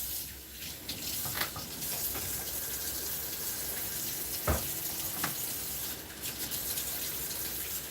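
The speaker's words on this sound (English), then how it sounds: "So let me wash my hands and get started here." Water runs from a kitchen tap as hands are washed under it, a steady splashing hiss with a few brief clinks and knocks, close by and with no talking.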